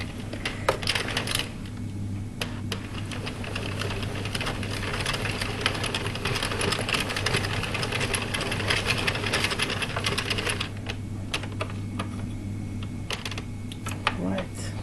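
An addi knitting machine cranked through rows of waste yarn clatters with dense, rapid mechanical clicking and rattling, steady across the whole stretch, with a low hum underneath and a few louder clacks near the end.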